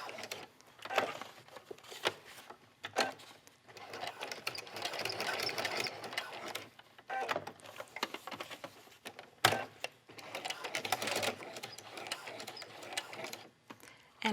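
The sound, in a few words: sewing machine stitching fabric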